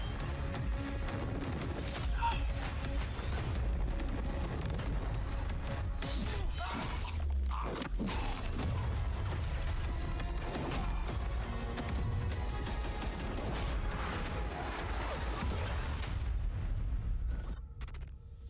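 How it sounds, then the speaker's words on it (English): Call of Duty Black Ops 6 gameplay fills with dense gunfire, crashing impacts and booming explosions, a busy, continuous battle mix at moderate volume. "See that guy that was shooting a gun in a little trailer there?"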